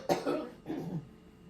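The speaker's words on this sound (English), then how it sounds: "I still got a little cough." An elderly woman coughs twice in a quiet home kitchen, two short raspy bursts close by, the second slightly weaker and more throaty.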